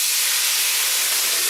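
Rice wine hisses and steams in a hot wok while stir-frying chicken and mushrooms, a loud, steady high sizzle that runs unbroken and close throughout with no voices.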